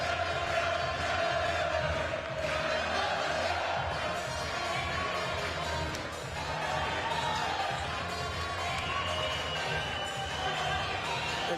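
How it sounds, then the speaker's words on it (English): Crowd noise at a live boxing night at York Hall, London, just after a fight ends: a steady, dense roar of cheering and shouting that fills the hall without pause. "Listen to the crowd, they absolutely loved it."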